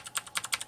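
Keys on a clicky Filco Majestouch 2 TenKeyLess mechanical keyboard are pressed about six times in a quick, uneven run, each press giving a sharp, close click.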